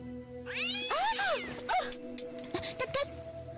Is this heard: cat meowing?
yes